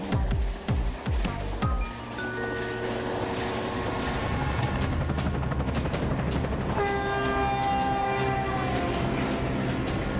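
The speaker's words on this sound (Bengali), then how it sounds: "ওই যে ট্রেন।" A cartoon train rumbles past with rapid clacking at first, then a sustained horn blast sounds over the continuous roar of the wheels on the rails.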